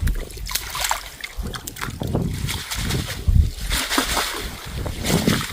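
Water splashes and sloshes as a freshly caught big buffalo fish is washed, in irregular bursts of close splattering and trickling. Voices talk over the water.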